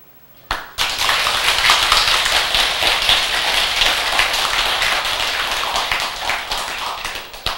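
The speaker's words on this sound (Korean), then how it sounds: "그 뭔지도 모르고 상 받았다 오니까 박수 친 거지?" An audience bursts into loud, dense clapping that begins suddenly and holds steady for several seconds before thinning out toward the end, with no voices over it.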